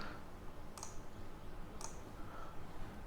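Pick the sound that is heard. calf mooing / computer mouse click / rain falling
computer mouse click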